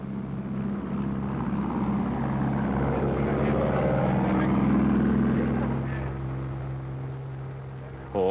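A light propeller plane flies in the Australian outback, its engine a steady, loud drone with a rhythmic propeller beat that swells slightly and then eases off, heard alone without talk.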